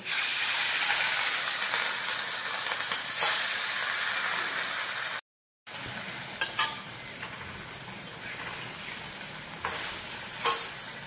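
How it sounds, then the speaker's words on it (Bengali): Steady, loud sizzling of fish pieces frying in hot oil, a dense crackling hiss throughout with occasional sharper pops and a brief silent gap midway. "এবার ওই তেলেই আমি মাছের পিসগুলো ভেজে নেব"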